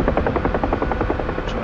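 A UH-1H Huey helicopter in DCS World makes a steady rotor chop, with loud rhythmic blade thumps over a continuous engine whine while it hovers near the ground.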